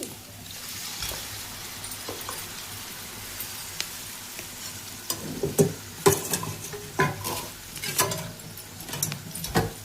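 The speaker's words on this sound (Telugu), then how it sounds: "టమాటాలు కూడా పచ్చి వాసన పోయే వరకు ఒకసారి అట్లా కలుపుకొని" Hand-mashed tomatoes sizzle in a hot pan, with a low steady fry broken by repeated scraping stirs that grow louder and more rhythmic toward the end.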